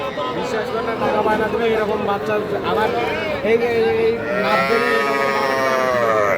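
Young bulls and heifer calves mooing loudly at a cattle market in Raniganj, in long, drawn-out lowing calls that carry on almost without pause, with people talking nearby.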